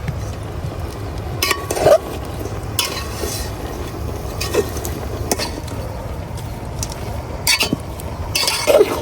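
Ground spices with turmeric and salt cook down in a pan for a dried-fish curry, making a low sizzle under repeated spatula scrapes and occasional metallic clinks against the pan.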